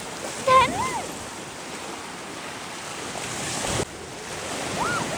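Sea waves at Radhanagar beach wash in a constant broad roar mixed with wind buffeting the microphone, with a faint distant voice briefly audible early on.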